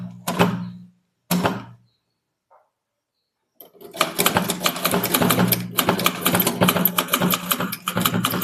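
Typewriter typing a heading for a Tamil statement, two isolated key strikes and a faint tap, then a dense, rapid run of mechanical clacks and thunks continuing close and loud to the end.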